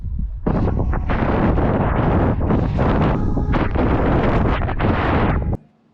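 Heavy, roaring wind buffets the microphone while an electric scooter is ridden very fast, a dense, continuous rush that cuts off abruptly near the end.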